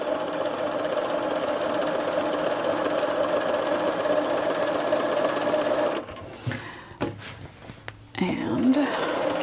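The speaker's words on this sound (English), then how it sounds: "just sew your stitch line" A sewing machine running a stay stitch line at a steady fast whirring rhythm for about six seconds, then stopping, followed by fabric handling noises and a soft voice.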